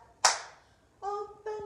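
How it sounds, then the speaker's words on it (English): A single sharp hand clap during a children's action chant for toddlers, close and distinct, followed by a voice singing two short sustained notes. "Open, shut them, give your hands a clap."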